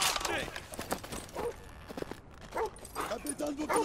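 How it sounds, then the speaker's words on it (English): Dogs bark in Call of Duty 2: Modern Warfare, several sharp yelping barks in bursts amid gunfire-like thumps and game sounds, fairly close. "Fucking dogs."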